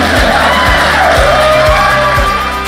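Wedding guests at Springfield Manor Winery, Distillery & Brewery cheer, whoop and shout loudly as a crowd, with a steady dense roar of voices throughout and clapping only loosely blended in.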